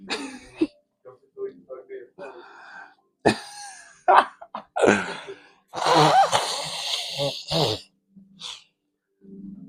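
A person blows their nose in a few wet, breathy bursts with throat clearing and coughs, close to the microphone, between pauses and short stretches of talk.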